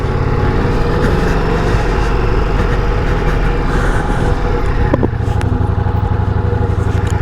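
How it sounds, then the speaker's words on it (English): A 2024 Ducati Diavel V4 motorcycle engine roars loud and close, a dense steady rumble that holds throughout with a slight shift in tone near the end, no voices. "You can probably hear the roaring. I rev the engine and let's start the ride."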